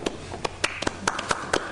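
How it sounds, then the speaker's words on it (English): Sparse applause from a few hands in a huge auditorium at a board of education meeting, scattered separate claps at an uneven pace, fairly faint and thin rather than a full ovation. "We have our own applause in this huge auditorium."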